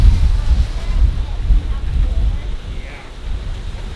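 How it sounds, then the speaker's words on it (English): Strong wind buffets the microphone on a cruise ship deck above rough ocean swells, a loud steady low rumble of gusts and surging waves. "Wow, look at those waves. And the wind down here is not even joking. It's like pushing around my camera."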